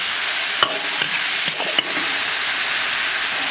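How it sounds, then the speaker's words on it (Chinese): Wild garlic and beef stir-fry in a hot wok with green and red chillies, a loud continuous sizzle broken by several sharp scrapes and clanks of the spatula. "先下小蒜头，炒完丝下入牛肉，青红辣子、盐、生抽，"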